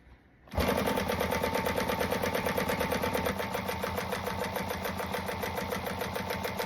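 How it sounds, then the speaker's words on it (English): A sewing machine stitches a seam, starting abruptly after a quiet moment and then running at a steady, fast, rapid-fire rhythm close by and alone. "if you got a contrasting thread, you might want to go a little slower so your stitching stays nice"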